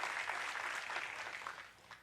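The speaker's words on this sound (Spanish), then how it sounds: "le podemos dar un aplauso al Señor por eso" A Baptist church congregation in Glenview claps together during a Spanish-language sermon, producing a dense, steady wash of applause that fades slightly toward the end.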